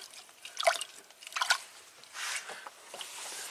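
Coolant bubbles and gurgles in the cooling system of a Hyundai hybrid with no heat that is spitting coolant, heard as faint, close wet pops and drips in a quiet setting.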